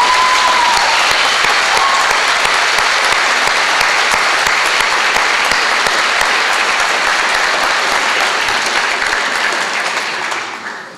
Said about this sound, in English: I hope you get the impression from that rousing applause and the screams from the audience